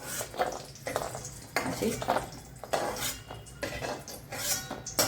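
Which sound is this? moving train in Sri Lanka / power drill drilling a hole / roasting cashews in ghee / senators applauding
roasting cashews in ghee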